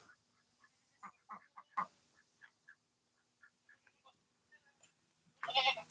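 Ducks quack in a scattered series of short, faint calls with uneven gaps between them, ending in a louder, harsher burst of noise up close.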